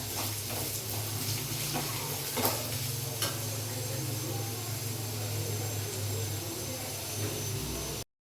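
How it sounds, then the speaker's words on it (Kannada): Grated coconut frying with turmeric and spices in a pan, a dense continuous sizzle with a low steady hum and a few faint stirring ticks, close and even throughout. "ಕಾಯಿಗೆ ಸ್ವಲ್ಪ ಫ್ರೈ ಆಯಿತು"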